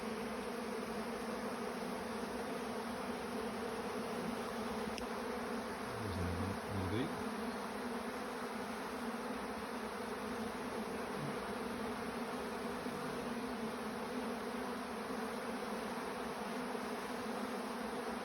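Bees and wasps buzzing around honey feed, a steady, dense hum of many insects with no break, close by and fairly faint.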